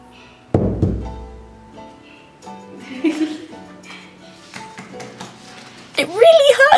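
A wooden block stamp struck hard by hand onto fabric to print a handkerchief at a museum workshop gives one loud, heavy thunk, followed by clattering handling noises and a voice near the end.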